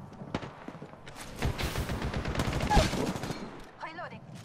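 A rapid burst of gunfire fills a firefight in Apex Legends, shots rattling close and dense for a couple of seconds before it thins out, with a brief electronic chirp at the end.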